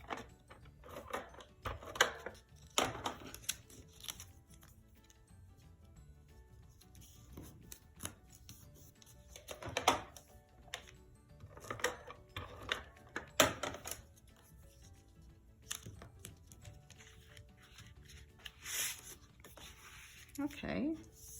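Scissors cutting pink paper for a scrapbook page at close range, with soft, irregular snips and rustling paper under quiet talk.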